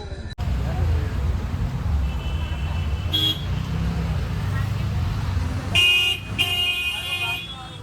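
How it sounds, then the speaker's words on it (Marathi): Road traffic rumbles steadily near Kainchi Dham in Uttarakhand, India, and several car horns toot in short bursts partway through and toward the end, close and loud over the continuous vehicle noise. "आणि गाड्यांचा आवाज लई इकडे"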